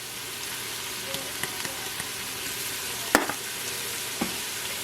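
Spices are stirred into sweet potato and black bean chili in an Instant Pot, with a soft, steady sizzling hiss and a few gentle scrapes and knocks of a spoon against the pot, close by and without talk.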